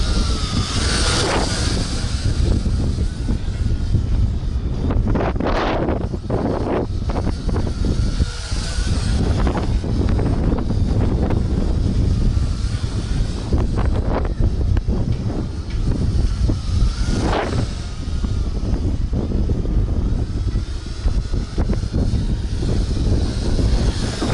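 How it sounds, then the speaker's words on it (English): Strong gusty wind, about 20 mph, buffets the microphone outdoors during a quadcopter drone flight, giving a constant loud roar and rumble with stronger gusts surging every few seconds. "It's probably around 20 mile per hour winds right now with some gusts"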